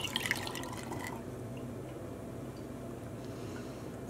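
Black dye pours into a funnel, trickling and dripping faintly and steadily against a low background hum.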